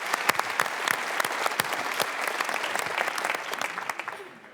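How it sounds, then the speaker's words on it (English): Audience applause after a pitch at a sustainability summit session, a dense sustained clapping crowd at steady loudness that tapers off toward the end, with no talk. "Let's give him a warm round of applause, please."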